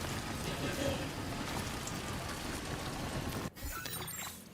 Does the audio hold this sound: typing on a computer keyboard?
no